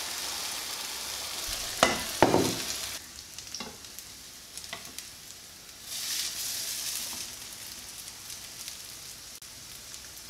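Slices of French bread dipped in egg sizzle steadily in a hot pan, a constant crackling frying hiss with a few brief clatters as pieces are handled, no voices.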